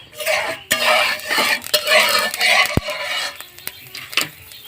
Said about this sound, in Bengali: দিয়ে দিচ্ছি আমি সর্ষের তেল কিছুটা পরিমাণ সর্ষের তেল দিলাম আর দিচ্ছি কালো জিরে